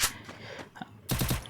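A short burst of rapid UMP submachine gun fire from the Free Fire video game comes in tight repeated cracks near the end, after a few scattered softer game sounds.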